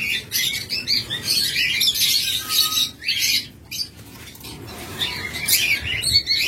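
A pair of albino red-eye lovebirds gives rapid, shrill chirps and chatter in close bursts, with brief pauses and some rustling between calls.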